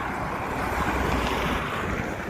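Steady, blustery wind roars across the microphone outdoors, a constant broadband rush with no voices.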